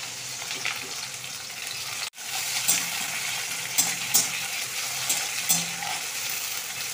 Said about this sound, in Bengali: মেথি ফোড়ন দিচ্ছি